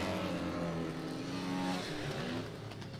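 Flat track racing motorcycles, including a Yamaha and a KTM, roar at high revs in a loud, continuous engine drone with shifting pitch as they run the dirt oval.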